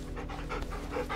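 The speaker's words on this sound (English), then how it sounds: "A dog." A dog pants in a video game, a quick steady rhythm of breathy huffs, close and fairly quiet over a low constant background hum.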